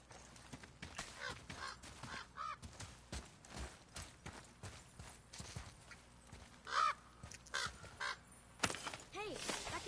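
A crow squawks now and again in the God of War video game, harsh caws scattered among clip-clop footsteps and other game sounds, with a voice talking over the scene.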